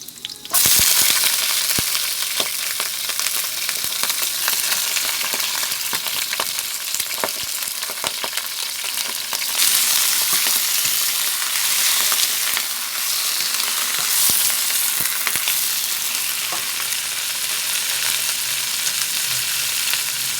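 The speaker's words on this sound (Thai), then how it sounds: "ผัดกระเทียม ให้หอมเราก็ใส่ ยอดผักคะน้าลงไปค่ะ" Garlic and kale tops stir-fried in a pan for a Thai rad na with wide rice noodles and pork, sizzling loudly and steadily throughout with occasional clacks from stirring, no talking.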